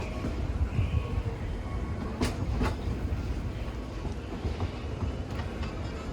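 The Disneyland Railroad train rolls along its rails with a steady low rumble and faint clatter, plus a few brief high metallic squeals from the wheels, heard from on board without talk.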